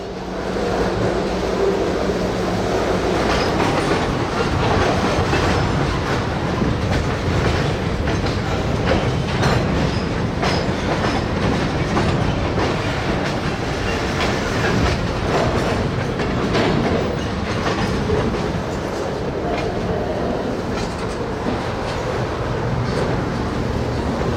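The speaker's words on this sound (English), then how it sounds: "the NX-12 pulls the 3 gondolas plus the 2 center beams out and ahead of the switch" An NX-12 locomotive hauls three gondolas and two center beam cars out past a switch, giving a steady, close rumble of rolling freight with continuous wheel clatter and clicks throughout, no voices.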